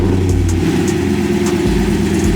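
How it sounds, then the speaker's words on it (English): A 2022 Chrysler 300 sits idling with a loud, steady low engine rumble close by, after a brief rise in revs as it settles, with no talking over it. "I'm gonna start the car real quick"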